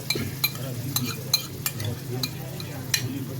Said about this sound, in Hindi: अब हम इसमें डालेंगे दही।